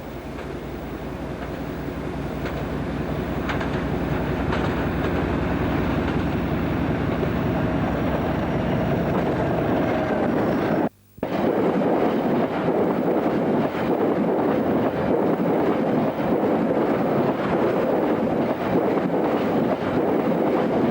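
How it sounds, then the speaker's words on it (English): Class 31 diesel locomotive hauling a Saturdays-only fertiliser train on the former Great Central Line, a loud steady engine roar and rumbling wagons close by throughout, broken by one very brief cut near the middle. "A Class 31 approaches with a Saturdays only fertiliser train from Egerman Street on the former Great Central Line, on its way to Bletchley."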